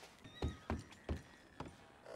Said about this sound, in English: Oh, sounds like someone's getting whipped back there.